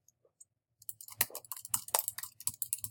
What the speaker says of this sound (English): all you do is click and then start typing